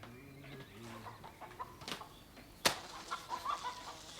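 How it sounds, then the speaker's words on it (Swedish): Hens cluck in short rhythmic calls outside on a farm, with birds chirping faintly and one sharp loud snap midway, fairly quiet and without talk. "höra fåglarna sjunga och hönsen kackla utanför"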